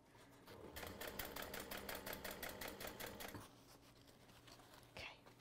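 A sewing machine stitches fabric for a portable gaming console case, running in a steady rapid rhythm for about three seconds before stopping, followed by quieter handling of the material.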